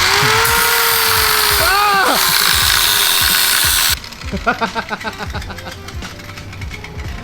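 A power tool cuts bicycle handlebars down to about 3 1/4 inches for barspins, a loud continuous whining grind with a pitch sweep, then it cuts off and quieter clattering handling sounds follow.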